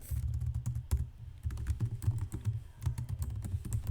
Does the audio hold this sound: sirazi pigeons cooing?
no